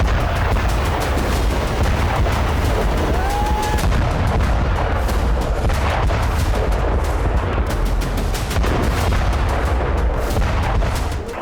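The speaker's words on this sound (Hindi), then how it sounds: "लेबनान की सीमा के भीतर वैसे ही धमाके शुरू हो गए।" Continuous heavy booming and crackling blasts roll on without pause in Lebanon, loud and dense like sustained artillery fire and explosions.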